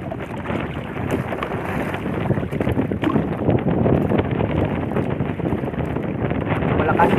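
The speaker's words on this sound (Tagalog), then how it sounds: "Malakas yung hangin at saka maalon-alon na." Strong wind buffets a small fishing boat on choppy water, loud roaring gusts and microphone rumble mixed with sloshing waves, steady throughout with occasional knocks.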